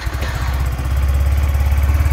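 A 125cc–150cc fully automatic scooter engine runs steadily nearby, a loud, even low-pitched putter with a rapid regular pulse and no change in revs.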